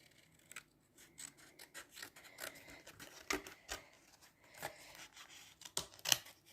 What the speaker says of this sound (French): Je vais découper celle-ci.